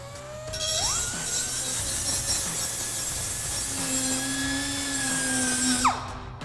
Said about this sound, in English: we're just gonna grab a grinding tool and just clean that up